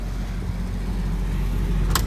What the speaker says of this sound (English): this is a 93 Freightliner with a Cat 3406C straight 6 diesel engine